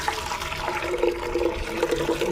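Soaked onion-peel water, left to rot for five days, being strained in a garden fertilizer preparation: a steady pouring, trickling rush of liquid, close and continuous, with no talking.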